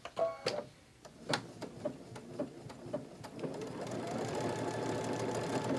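A sewing machine struggling as it stitches, with a few sharp isolated clacks early on, then a steady, fast, continuous mechanical whir close by.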